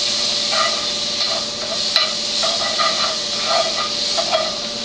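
Butter sizzles in a hot pan while bananas foster is being made: a steady, bright hiss with small crackling pops throughout, close and fairly loud.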